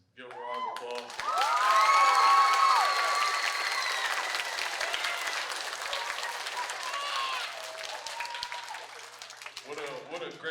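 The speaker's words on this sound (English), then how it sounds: "give a round of applause" A large audience bursts into loud, sustained applause and cheering with whoops for Kevin Edwards, father of football player Donovan Edwards, rising quickly and holding steady for several seconds before tapering, with a voice speaking over the start and end.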